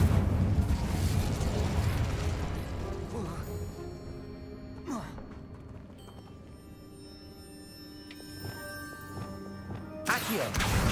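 The Incendio fire spell flares in the wizarding game Hogwarts Legacy, a roaring burst followed by crackling and popping impacts, with game effects and another sharp blast near the end.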